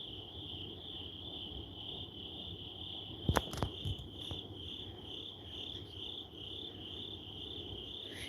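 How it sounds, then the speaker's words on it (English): Steady, high-pitched cricket chirping fills the night, a continuous insect drone with a brief rustle or knock partway through. "the sounds of the crickets"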